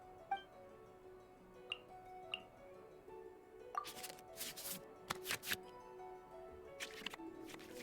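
Cards being shuffled back into the draw pile in the Genshin Impact card game on PC, a series of soft ticks followed by bursts of crisp, swishing card sounds in quick succession, fairly close and clear.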